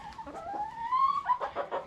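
Chickens in a backyard coop, Easter Egger hens among them, give a rising drawn-out call that climbs and holds, then break into a few quick soft clucks, close by with no talk over them.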